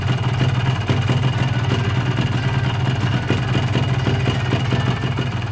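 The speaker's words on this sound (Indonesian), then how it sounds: "sekarang coba kita hidupkan mesinnya dan kita dengarkan suara mesinnya." A Yamaha RX King motorcycle engine idles roughly with a worn block or piston, giving a steady close two-stroke putter with a dry rhythmic clatter running throughout at constant loud level, no talking.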